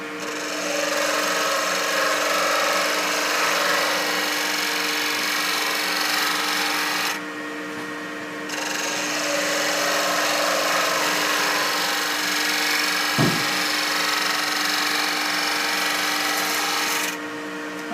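A wood lathe spins an ebony pen blank while a hand-held turning tool cuts it, giving a steady whirring hum with a scraping, rasping texture. The cutting drops out briefly midway and again near the end.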